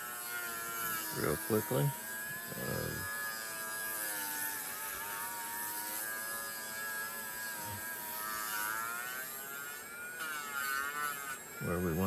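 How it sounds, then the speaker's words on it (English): Edges of a wooden trifold are sanded, a steady buzzing whine running throughout at moderate level, with brief bursts of talk over it. "kind of quickly go through here and sand the edges"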